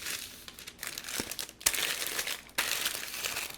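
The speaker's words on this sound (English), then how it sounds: "I'm going to cover the bottom of the pan with parchment paper." Parchment paper crinkles and rustles steadily as it is pressed into the bottom of a 9-inch springform pan for cheesecake, close up and crisp, with a few louder crunches and no talk.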